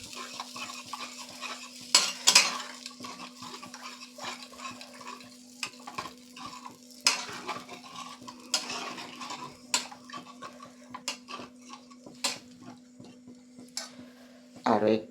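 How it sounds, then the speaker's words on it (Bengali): A spoon stirs grass carp fish curry in a pan after water is added, giving scattered scraping and clinking strokes close by over a faint steady hum, with a voice talking intermittently. "জলটা দিয়ে আবার একটু ভালো করে নেড়ে নেব"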